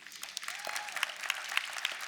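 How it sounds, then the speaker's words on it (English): Applause from a conference audience at the RootsTech FamilySearch tech forum, a fairly quiet, scattered patter of clapping that holds steady for a couple of seconds with no speech over it. "give a round of applause for my colleagues here"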